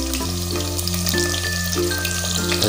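Two medium chopped onions browning in hot ghee over low heat for chicken handi biryani, a steady close sizzle running alone, with a constant low hum underneath.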